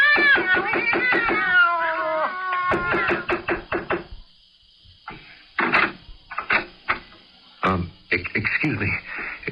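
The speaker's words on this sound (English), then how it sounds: "You didn't hear the sound of cats just now?" Several cats meow and caterwaul behind a closed apartment door, a run of loud, harmonic cries at first, then scattered, muffled knocks and shorter cries after a brief silence.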